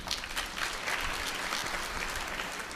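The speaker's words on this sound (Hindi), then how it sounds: "ताली बजाने के लिए।" Audience clapping at a Shrimad Bhagwat Katha religious discourse, a steady wash of many hands applauding throughout, moderately loud with no clear talk over it.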